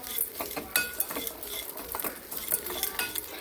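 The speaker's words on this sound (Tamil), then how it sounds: "இப்போ இதை கொஞ்சம் அப்படியே சவந்து வர அளவுக்கு அப்படியே வறுத்து விட்டுக்குவோம்" Ingredients for jamun fruit chutney roasting in a pan while a spoon stirs and scrapes, giving a continuous clattering, scraping patter with a faint sizzle, close and steady, no voices.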